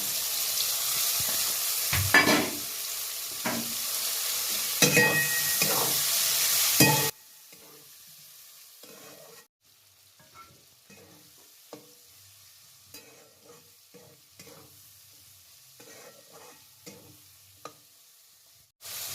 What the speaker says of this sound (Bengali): এবার এখানে সবজিটা ভেজে রেখে সবজিগুলো দিয়ে দিলাম